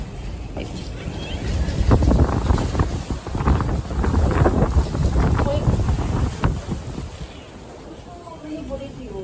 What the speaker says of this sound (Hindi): मैं हवा की आवाज़ अब सुनो कितनी ज़ोर से आ रही है।